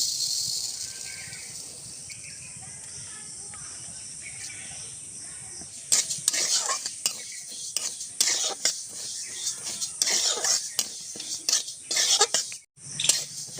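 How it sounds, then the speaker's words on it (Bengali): Mung dal dry-roasting in a hot wok with no oil: a quiet, steady hiss at first, then from about midway a run of spatula scrapes and rattling grains as it is stirred, fairly close with no talking. "শুকনো খোলায় ডালটা ভেজে নেব।"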